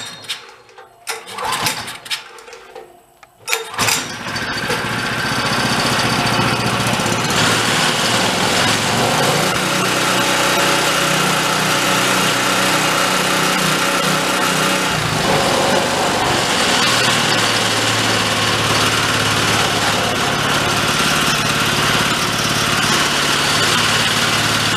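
An old Homelite pressure washer engine that had sat unused for 20 years, carburetor suspect, is pulled over with a few rough bursts, then catches and runs at a loud steady high-pitched drone that holds throughout.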